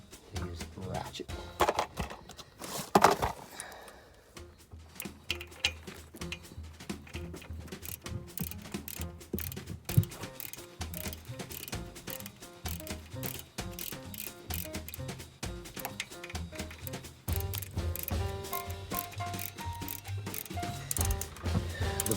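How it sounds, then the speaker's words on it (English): A ratchet tightening a bolt on the slave cylinder of a 1985 Leyland CU335 coach under rebuild, giving steady, rapid, close metallic clicking that runs through the whole stretch with brief pauses. "use the ratchet"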